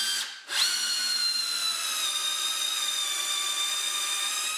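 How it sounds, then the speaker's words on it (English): A Festool QUADRIVE 18V cordless combi drill whirs up after a brief pause, then holds a steady, high-pitched motor whine close to the microphone for several seconds. "that's the Festool QUADRIVE 18 volt combi drill available from ITS"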